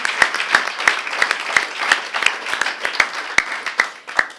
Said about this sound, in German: ein Applaus auf jeden Fall da